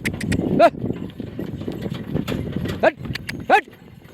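A bullock cart moving slowly at night on a farm, its hooves giving a few sharp clopping knocks spread apart, heard over a voice calling out and urging the animals along.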